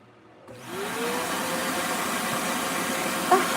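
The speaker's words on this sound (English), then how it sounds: "I have to vacuum the cat litter because I am replacing it all." A vacuum cleaner switches on and runs with a steady, loud whirring roar, sucking up cat litter close by, with a brief clatter near the end.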